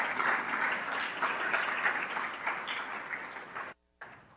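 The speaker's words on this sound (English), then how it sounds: "Let's give all these honorees an applause" Audience at a Washburn University employee recognition ceremony applauding honorees, a steady dense wash of clapping that runs several seconds before cutting off abruptly near the end, then resuming briefly.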